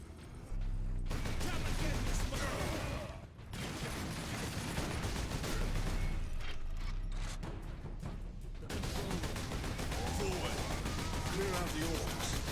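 Dense gunfire and explosions fill a battle in the Warhammer 40k: Space Marine game, with rapid bursts and booming blasts nearly continuous throughout.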